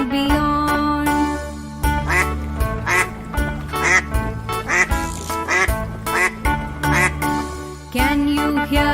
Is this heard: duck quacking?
yes